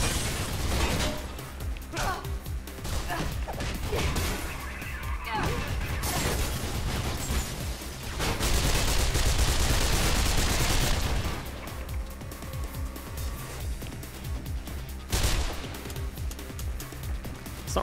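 Gunfire in the Mirror's Edge game: loud, sustained bursts of rapid shots and crashes, with a heavier barrage in the middle and scattered impacts, over a busy background of other game sounds.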